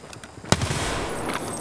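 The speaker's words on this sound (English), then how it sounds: "He one-shot him with the shotgun." A single shotgun blast in Escape from Tarkov, a sharp loud crack followed by a dense lingering roar of echo and noise.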